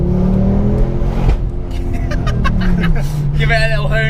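A tuned 320 bhp Ford Focus ST revving and accelerating hard, loud and close, the engine note rising, dipping at a gear change, then climbing again.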